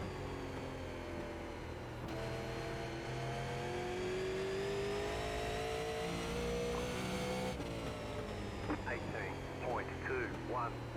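Several Super Late Model race car engines roar continuously on the oval at Irwindale Speedway in iRacing, with shifting pitch as the cars accelerate and close in, and a voice speaking near the end.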